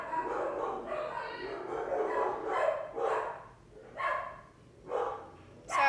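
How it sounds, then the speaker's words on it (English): Several dogs barking and yipping in short bursts indoors, fairly close, mixed with a person talking. "My dogs are being crazy."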